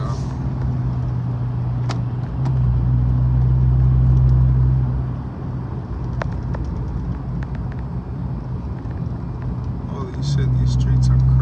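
A car driving along city streets, a steady engine hum and road rumble from inside the vehicle with someone talking over it.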